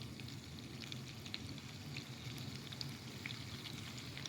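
Onions frying in a pan, a soft, even crackling sizzle with scattered tiny pops, faint and continuous throughout.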